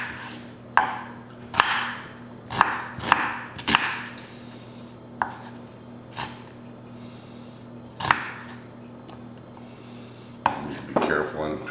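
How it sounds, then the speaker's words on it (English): A knife chopping onions on a cutting board, a dozen or so sharp separate knocks in an uneven rhythm, close and clear over a faint steady hum, without speech. "Once we get our onions chopped up"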